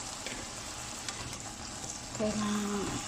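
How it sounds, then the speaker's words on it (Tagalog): Onion, garlic and ginger sautéing in a pan for chicken curry, a soft steady sizzle with a brief clink of utensils near the end. "maggigisa tayo ng sibuyas, bawang at saka luya"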